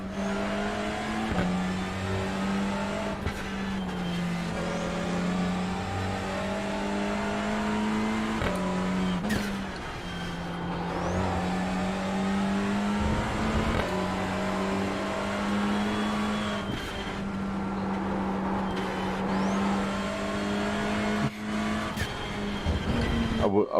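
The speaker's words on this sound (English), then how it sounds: "Watch your mirrors, there's a car approaching." Continuous engine drone of a touring race car in the sim racing game iRacing, with shifting pitch, occasional tire squeals and skids, under intermittent talking.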